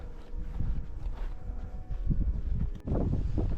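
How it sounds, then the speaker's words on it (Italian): Steady wind buffets the microphone in a continuous low rumble, with gusty roaring swells and a brief dip near the end. "Questa era la parte dove c'è stato un po' di vento, spero si senta."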